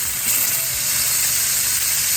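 Ribeye steaks sizzle loudly and steadily in a hot pan just after being flipped, a continuous close hiss of searing fat and steam with no talk.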